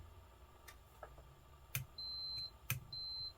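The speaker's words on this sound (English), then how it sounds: "Checking continuity." Two short, clean electronic beeps from a multimeter continuity test on an Altec Quartet amplifier chassis, faint and quiet, separated by a second or so, with small clicks from probe contact around them.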